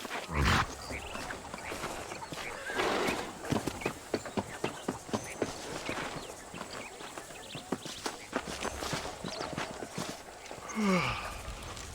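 Horse hooves clip-clop at a steady walking rhythm while riding in the Red Dead Redemption video game. The hoofbeats are fairly close and continue throughout with faint ambient game sound and no speech.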